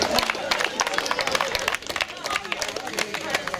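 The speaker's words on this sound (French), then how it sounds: "On l'applaudit." An audience claps for a 17-year-old competitor placing fourth at a 'Hercules' strength championship, a steady patter of many hands with crowd murmur mixed in and a brief dip midway.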